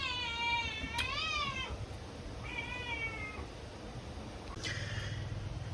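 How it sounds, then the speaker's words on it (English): A cat meows indoors, two long drawn-out calls close by, then a shorter third cry after a pause, over a quiet room hum. "had to deal a bit with the cat, made too much sound"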